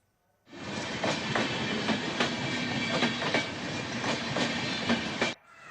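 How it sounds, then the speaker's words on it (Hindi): A passenger train on the Gorakhpur–Bagaha line rolls steadily past close by, loud wheel clatter ticking in rhythm over the rails for about five seconds before cutting off abruptly. "सवारी गाड़ी गोरखपुर से चलकर बगहा पहुंची"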